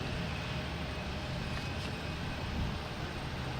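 Airbus A220 jet engines at Boston Logan Airport produce a steady, even roar that stays faint and distant, with no distinct peaks.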